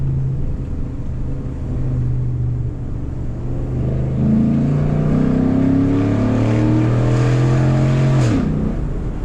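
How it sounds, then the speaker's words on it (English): A 2014 Ford SVT Raptor pickup's engine revs up through a gear, the tone climbing steadily before a sharp upshift snap drops the pitch, heard loud and close from inside the cab. "The snaps on the upshift, man, they just do not get old."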